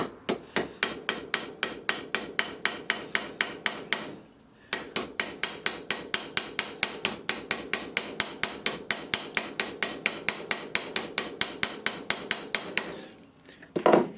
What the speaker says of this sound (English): all I want to do is tap over the end of the thread